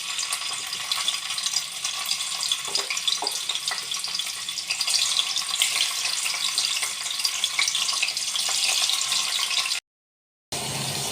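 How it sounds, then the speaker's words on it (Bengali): Paneer fries in hot oil, making a constant, close, hissing sizzle that carries on without a break until a sudden brief cutout near the end. "পনিরগুলোকে ভেজে নেব"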